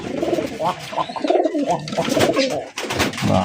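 Close, loud pigeon cooing fills a pigeon farm, with several birds giving overlapping throaty, bubbling coos and brief flutters.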